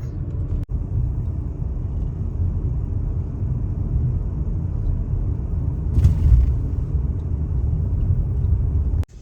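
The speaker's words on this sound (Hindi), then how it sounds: "मैं जल्दी से अब गाड़ी को पार्क कर लूँगी" A car driving slowly and pulling in to park at home, a steady low engine and road rumble from inside the cabin with a brief louder swell, ending abruptly.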